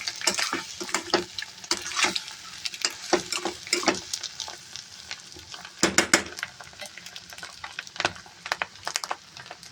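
Spoon scraping and stirring egg masala curry in a pan on the stove, steady close sizzling with repeated metallic scrapes and knocks against the pan, no voices.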